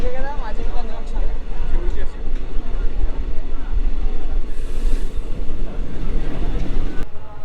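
A passenger train rolls into Azimganj Junction with a continuous, heavy rumble and rattle of wheels on track, loud and steady throughout the clip.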